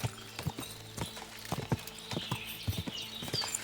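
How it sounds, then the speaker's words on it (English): Horse hooves clip-clop in a steady walking rhythm in Kingdom Come: Deliverance II, close and moderately loud, with faint ambient background. "Easy, good horse."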